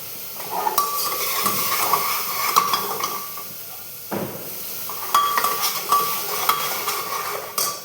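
Chilies dropped into a hot pan of oil with a steady sizzle, metal utensil scraping and clinking against the pan in short repeated strokes, close and fairly loud throughout.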